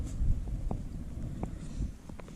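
Strong gusting wind from Storm Ellen buffets the microphone on exposed Bamford Edge, a steady low roar with a few brief knocks and rustles.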